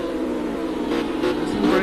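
GT3 race cars lap the Dubai circuit in Project CARS, a continuous engine drone that rises slightly as they accelerate, under a race commentator's voice.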